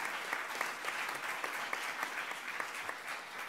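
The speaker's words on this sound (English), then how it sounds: "let's give a round of applause again to our speakers." A conference audience at a land-rights discussion forum applauds its speakers, a steady, even patter of many hands clapping at moderate distance with no voices over it.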